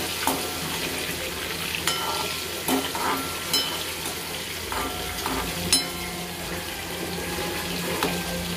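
Green chillies fry in salted oil for a crispy chilli fry, giving a steady, close sizzle with occasional scrapes and clinks of stirring, and no voices.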